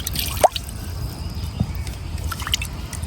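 Chital fish being washed in water, heard as a few soft drips, splashes and squishy handling sounds up close, faint and sparse.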